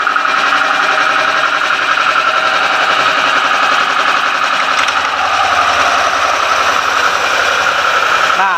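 A Yamaha NMAX 155 cc scooter engine runs loudly and continuously, with a rapid rattling putter and slight shifts in revs throughout.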